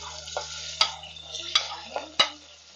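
Onions added to hot oil in a pan, a soft sizzle under repeated utensil stirs and sharp clacks against the pot, close up with no voices.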